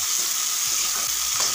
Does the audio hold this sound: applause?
no